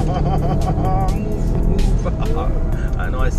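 A BMW 750Li V8 accelerates with a deep, continuous engine rumble heard from inside the car, and a voice talks excitedly over it.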